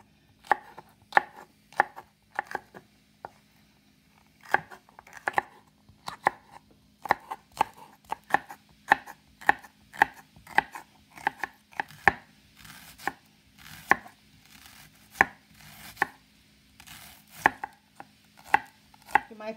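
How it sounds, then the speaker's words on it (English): A knife chops seasoning vegetables on a board for a salmon dish, with many crisp close knocks in uneven bursts, speeding up toward the end. "I'm just gonna cut them like this"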